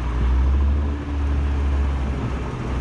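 An Audi RS3 accelerates hard in a drag race on snow, a loud, sustained engine roar that dips briefly and then continues strongly.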